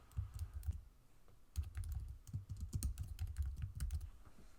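Fast typing on a computer keyboard as a file name is entered for an After Effects project, a close, quiet run of key clicks with short pauses and no talk.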